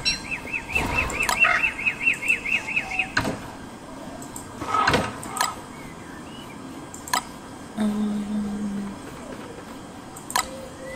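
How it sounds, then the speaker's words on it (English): A caged bird in Don't Starve chirping in a quick series of rhythmic tweets, followed by scattered clicks and interface sounds with brief tones, fairly close and clear. "We'll feed the bird."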